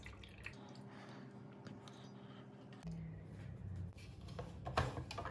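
Water being poured into a lemon squeezer in a home kitchen, faint dripping and splashing with soft clinks, quiet and close with a low background hum.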